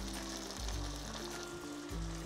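Chopped onion hitting a hot pan where moose osso buco has been browning, giving a steady close sizzle with a low hum beneath and no voices.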